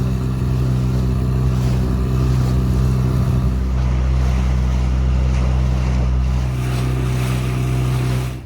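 A motorboat heads out on Lake Ohrid for a morning dive, a loud steady engine drone with rushing water and wind buffeting the microphone throughout.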